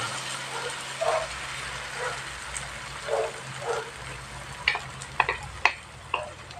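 Scrambled egg frying in a pan, a steady soft sizzle with occasional taps and scrapes of stirring, fairly close with no talk.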